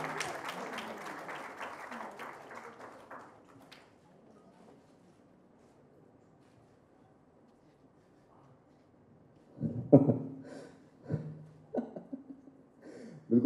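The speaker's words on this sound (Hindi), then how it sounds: "तालियां हो जाए, everybody, come on" Audience at a poetry book launch applauds, a clear burst of clapping that fades out over the first few seconds, followed by quiet room tone and then someone speaking.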